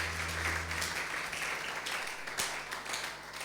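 Church congregation applauding together, a steady wash of clapping spread across the room at moderate loudness, with a low hum running beneath it and no voices standing out.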